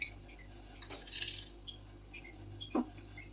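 A metal spoon tapping and clinking against a bowl while salt is added for a turkey leg marinade, with a few light, close clinks and one sharper knock near the end, otherwise quiet.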